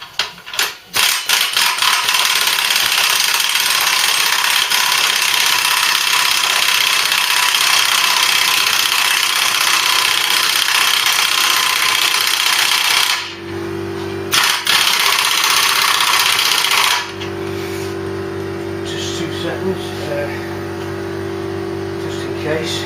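An air compressor drives an air impact gun during a Mk3 Ford Cortina restoration, a loud, continuous mechanical roar with rapid rattling that cuts out briefly, then gives way to a lower steady hum; voices talk intermittently.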